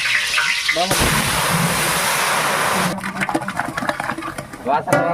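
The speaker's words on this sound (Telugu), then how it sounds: "చేస్తుంటే మధ్యలో అయితే వర్షం పడిపోయింది" Heavy rain pours down steadily during outdoor village cooking, a loud wash of noise that then breaks into scattered patter and clatter, with voices briefly heard over it.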